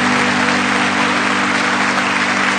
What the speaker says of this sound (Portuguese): Vamos aplaudi-los enquanto eles descem